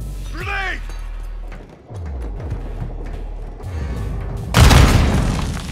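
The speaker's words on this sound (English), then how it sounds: "Grenade!" A grenade detonates in Call of Duty: Modern Warfare 2 (2022) during a close-quarters hallway mission, a sudden loud broadband blast arriving late after rumbling ambience, a distorted radio-like voice, and scattered thumps.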